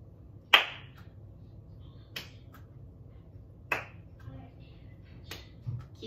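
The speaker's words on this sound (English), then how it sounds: "we're going to toss the ball, clap, then catch." Sharp single hand claps ring out during a ball toss-and-catch drill, four distinct claps spaced roughly a second and a half apart over a quiet room.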